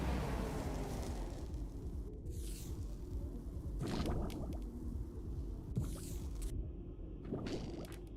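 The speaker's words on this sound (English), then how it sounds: "It's kind of a bubbling sound when we touch these." Touching objects in the video game Mind Diver sets off a bubbling, squishy liquid sound, a dense continuous wash with a few sharper splashy bursts, fairly loud and with no talk.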